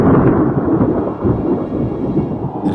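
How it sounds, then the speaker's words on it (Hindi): A loud, sustained thunderstorm roars through an animated fairy-tale scene, with continuous rumbling thunder and steady rain, no voices, and a brief crackle near the end. "रास्ते में जाते वक्त अचानक वो एक तूफान में फंस गए"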